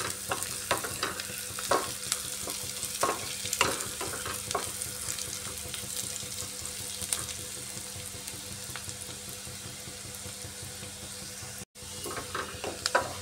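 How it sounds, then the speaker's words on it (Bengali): Onions frying crisp on full gas heat into a Bengali fried-onion garnish, a steady sizzle with repeated scrapes and stirring knocks, and a brief dropout near the end. "বেরেস্তাটা ভাজার সময় গ্যাসের হিটটা ফুল রেখে পেঁয়াজটাকে মুচমুচে করে ভাজতে হবে।"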